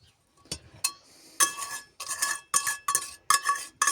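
Utensil stirring melted butter into waffle batter for rolled wafers cooked in a frying pan, heard as a string of clinking, scraping strokes against the bowl in uneven bursts, close and fairly loud with no talk.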